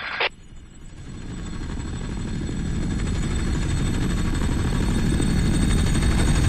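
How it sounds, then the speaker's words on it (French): Helicopter in the video game BlackSite, its rotor and engine drone swelling steadily louder as it approaches, a brief sharp click at the very start and no voices. "L'hélico est là."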